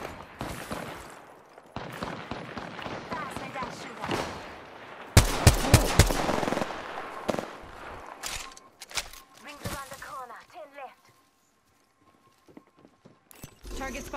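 Gunfire from the Apex Legends video game comes in a loud burst of rapid shots near the middle, with game effects and a player's voice talking before and after.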